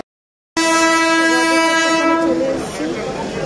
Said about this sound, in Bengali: এবার ট্রেন ঢুকছে আমাদের।